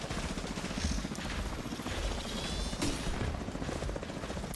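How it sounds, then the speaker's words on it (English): A helicopter in the video game The Division thrums with a fast, steady rotor chop, loud and continuous under faint game effects. "There's a chopper."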